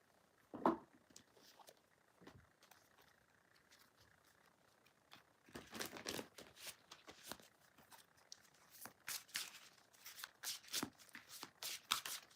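Fairy tarot cards are shuffled by hand, faint papery riffles and soft taps coming in scattered bursts that grow busier toward the end.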